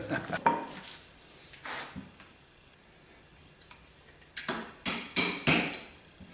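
A hammer taps a drift to seat the piston pin on a 705 Saylor-Beall compressor, giving sharp metallic strikes, first a few spaced hits, then a quick cluster of ringing blows close by.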